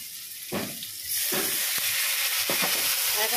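Paneer frying in a pan, a loud continuous sizzle that surges in sharp bursts as the pieces are stirred, then settles into steady hissing with no talk.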